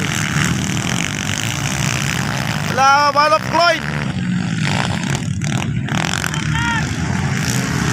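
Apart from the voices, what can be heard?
trail motorcycles racing in competition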